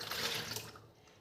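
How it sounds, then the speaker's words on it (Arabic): A cup of water poured into a mixing bowl while making bakery-style pâté dough, a short quiet splashing gush close by that trails off within about a second. "انا هحط كوبايه ميه بس الاول"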